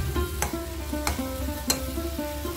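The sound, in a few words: broccoli being stir-fried in a pan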